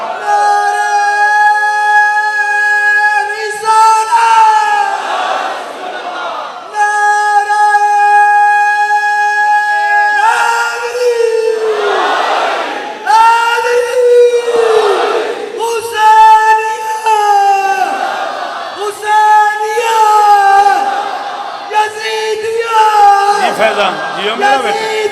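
At a religious gathering at an imambargah in Lahore, a large crowd answers a leader's call with loud, sustained chanted slogans. The chanting comes in repeated waves, separated by short pauses.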